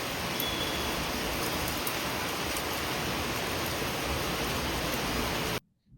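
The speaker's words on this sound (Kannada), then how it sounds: "ದಿಢೀರಂತ ಮಳೆ ಜೋರಾಗಿ ಬರೋಕ್ಕೆ ಸ್ಟಾರ್ಟ್ ಆಯಿತು" Sudden heavy rain pours down in Bangalore as a steady, dense roar of drops that runs unbroken for over five seconds, then cuts off abruptly into near silence.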